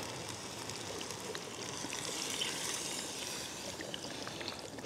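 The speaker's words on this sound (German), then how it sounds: "Schuss Wasser mit drauf." A steady stream of water pours continuously into a cooking pot with uncooked pasta outdoors, a broad splashing hiss, close and fairly loud, without pause.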